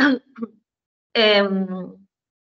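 A short cough is followed by a longer, raspy throat clearing, close and isolated against silence.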